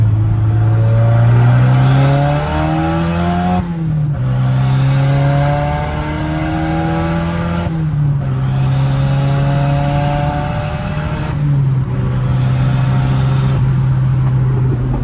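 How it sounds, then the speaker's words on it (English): Turbocharged Nissan Hardbody D21 pickup pulling hard in second gear, a loud close engine drone rising in pitch with brief dips at shifts around every four seconds, with heavy wind noise throughout. "Let's do a little second gear pull, show you guys what this thing can do."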